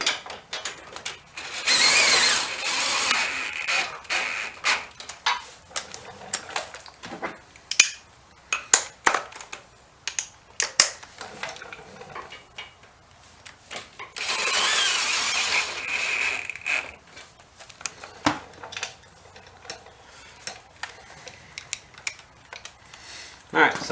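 A ratchet wrench tightens the crash bar bolts on a 2019 Honda CB500X motorcycle, with bursts of rapid clicking and two longer whirring runs, close and fairly loud.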